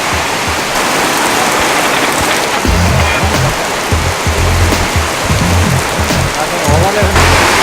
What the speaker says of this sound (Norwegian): Dette er regn.